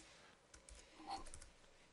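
Computer keyboard typing while data is entered into a school attendance register, a few faint keystrokes clicking in quick succession in a quiet room.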